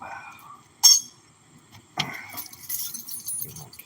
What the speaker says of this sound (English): get my keys off and out of my back.